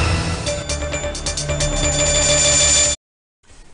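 A telephone rings in a radio advertisement for a springtime sale. It gives a loud, repeated electronic trill for about three seconds and then cuts off abruptly into near silence.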